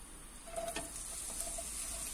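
Chopped vegetables tipped into hot merkén-spiced oil for a Chilean sofrito, a faint steady sizzle with a brief clatter as they land in the pan, quiet and continuous.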